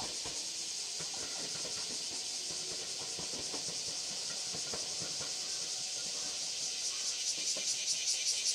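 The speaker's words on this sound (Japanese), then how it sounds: "上り8600系石槌号が通過" An 8600 series Ishizuchi limited express train rushes past a station, a steady airy hiss of moving carriages with scattered wheel clicks that grow into a rhythmic clatter near the end, heard at moderate distance.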